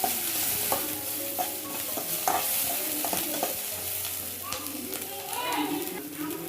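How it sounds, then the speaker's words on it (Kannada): Ginger garlic paste frying in a pan for paneer gobi, a continuous close sizzle with frequent spoon scrapes and clinks, a faint voice and some background sounds in the room. "ಈಗ ಇಷ್ಟು ಫ್ರೈ ಆದಮೇಲೆ ಒಂಚೂರು ಶುಂಠಿ ಬೆಳ್ಳುಳ್ಳಿ ಪೇಸ್ಟ್ ಹಾಕೋತಾ ಇದ್ದೀನಿ. ಈಗ ಒಂಚೂರು ಫ್ರೈ ಮಾಡ್ಕೋತಾ ಇದ್ದೀನಿ."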